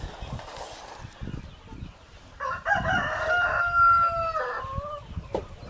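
Chickens cluck on a chicken and duck farm in the Philippines, with a rooster's crow rising clearly in the middle while people talk quietly and intermittently in the background.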